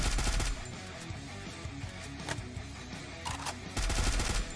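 Automatic gunfire in the battle royale game Free Fire, sustained bursts of shots with a loud stretch at the start and another toward the end, dense and continuous with no voices.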